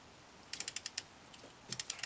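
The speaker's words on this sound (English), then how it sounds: "tighten up until you hear the click, which is the torque wrench saying it's reached the right setting" Quick mechanical clicks and ratcheting from a torque wrench tightening wheel nuts, in two short bursts, crisp and close, with quiet pauses between.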